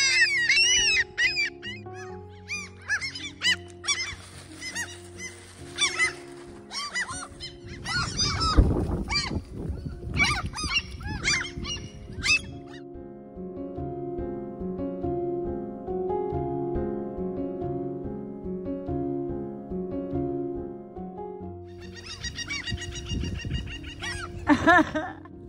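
Geese or ducks honking and calling in loud bursts, with a dense flurry of honks at the start, scattered calls later and another burst near the end, over steady low background sound.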